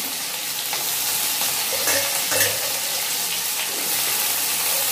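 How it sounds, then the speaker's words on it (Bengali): Raw onion frying in hot oil for a Bengali rui posto dish gives a loud, steady, close sizzle with a few brief clinks of stirring near the middle and no speech. "এই তেলটার মধ্যেই আমি একটু কাঁচা পেঁয়াজ দিয়ে দিলাম"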